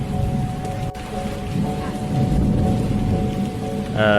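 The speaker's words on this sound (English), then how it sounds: "But it started raining heavily." Heavy rain pours steadily, a dense loud wash of noise with a low rumble beneath and a brief sharp knock near the start.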